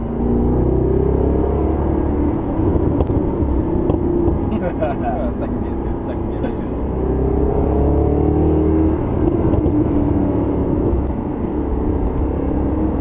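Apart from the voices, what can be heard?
sports car engine and exhaust crackle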